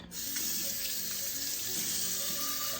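Hot water runs steadily from a kitchen tap into a sink, a continuous close hiss and splash with no talking.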